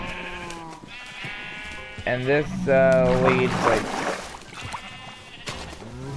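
Sheep bleat repeatedly on a Minecraft sheep farm, a string of wavering cries that rise and overlap, heard clearly while someone speaks over them.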